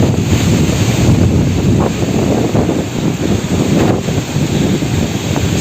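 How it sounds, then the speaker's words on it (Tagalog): Strong typhoon wind from Typhoon Rolly roars loudly and steadily against the microphone, with a continuous gusty rush and no speech. "Sobrang lakas pa rin ng hangin, mamaya lumipad sa atin to."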